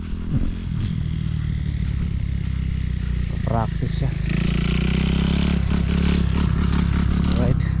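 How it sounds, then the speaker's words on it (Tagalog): A motorcycle passes along a road beside a shady park in Manurewa, Auckland, New Zealand, its engine a steady rumble through an outdoor wash with rattling and scraping sounds, no talking in the moment. "ayun na naman yung motorsiklo oh"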